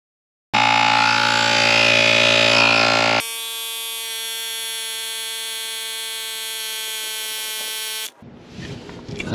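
A portable tire air inflator runs on a car tire with a loud, buzzing motor drone that changes pitch partway through, holds steady for several seconds, then cuts off sharply.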